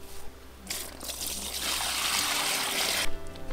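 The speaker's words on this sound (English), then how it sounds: "So fresh bucket of water, fill her on up." Water pouring into a bucket to rinse laundry at an off-grid river campsite in outback New South Wales, a steady splashing gush that starts abruptly, runs for a couple of seconds and then stops.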